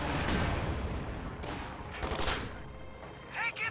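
Gunfire in a real-time strategy video game, a steady crackle of rifle and machine-gun bursts with some heavier booms, moderately loud, under faint talking.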